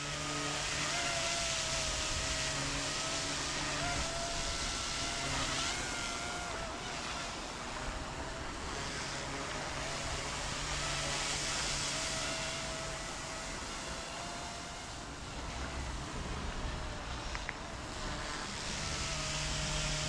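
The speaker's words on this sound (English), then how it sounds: "Sounds of the rotor is really cool. Different inputs make different sounds. Really ripping up the air." An Eachine E120S RC helicopter's rotor whirs steadily in flight outdoors, a continuous buzzing whine with shifting pitch as the controls change, mixed with wind noise.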